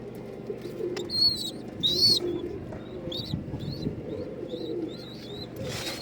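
Pigeons in a loft coo softly and continuously, with scattered sharper chirps rising above the low murmur of the flock.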